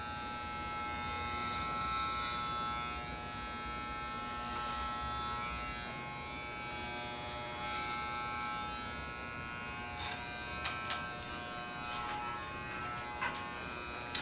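Electric hair clippers buzz steadily and close up while cutting a man's long hair, with a few sharp clicks and snips near the end; nobody speaks.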